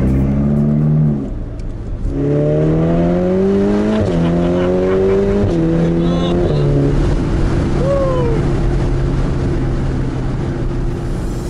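Ferrari Portofino with its 600 hp twin-turbo 3.9-litre V8 and reworked exhaust, top down, revs hard through several rising gear pulls, a loud close engine roar with steady stepped climbs and brief dips between shifts.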